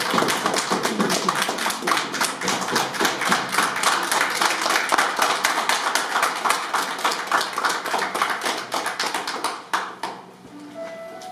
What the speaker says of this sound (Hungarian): Na, akkor még egy tapsot vár az ifjú pár, akkor tapsoljuk még egyszer neki.